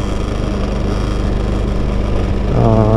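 A scooter engine runs close and loud at a steady idle-like chug, then climbs into a higher, stronger rev near the end as the throttle is twisted, with no speech.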